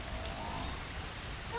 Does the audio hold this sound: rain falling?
yes